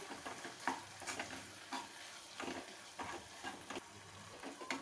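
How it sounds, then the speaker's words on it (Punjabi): A spoon stirs tomato masala with added sugar in a pan on a gas flame, giving soft repeated scraping strokes over a faint sizzle, quiet and close with no talking. "ਇੱਕ ਚਮਚ ਅਸੀਂ ਇਹਦੇ ਵਿੱਚ ਚੀਨੀ ਪਾ ਦਾਂਗੇ ਮਿਕਸ ਕਰ ਲਾਂਗੇ ਇਹਨੂੰ"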